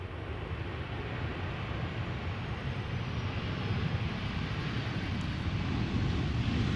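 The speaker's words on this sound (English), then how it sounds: "This is a 737 arriving from Birmingham." Steady, fairly faint jet roar from a Boeing 737 airliner arriving at Amsterdam Schiphol, a broad rumble that swells slightly toward the end, with no one speaking.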